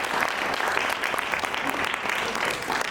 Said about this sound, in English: And a big round of applause for that spirit for all our children.